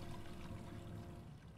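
Pouring, trickling water effect from the Valve video game Aperture Desk Job, a steady liquid stream running evenly and fairly close for the whole short moment with no talk over it.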